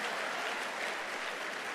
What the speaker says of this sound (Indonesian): Tepuk tangan buat yang merokok ya